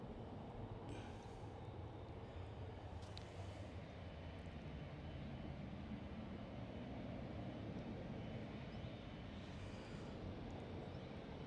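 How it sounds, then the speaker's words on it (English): Turkish airline Airbus A330 taxiing at Manchester Airport gives a steady, faint, distant jet-engine whine and rumble that holds evenly throughout with no voices. "Nothing less than an Airbus A330."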